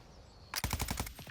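Rapid automatic gunfire in the video game Warzone 2, a quick burst of about eight punchy shots in fast rhythm after a brief quiet lead-in, fairly close and loud.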